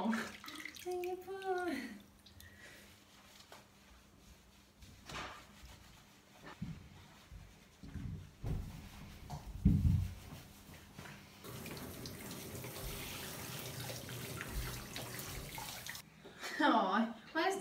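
Bathwater runs and splashes steadily from a tap while a white pug is washed in a bath. There is intermittent sloshing and louder running water toward the end, with people talking and exclaiming now and then.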